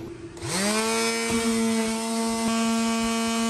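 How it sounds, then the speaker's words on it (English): A power sander sanding wood in a truck camper whirs up to speed and holds a steady, loud mechanical drone, with a faint knock or two along the way. "we're gonna sand this down. We're sanding this down."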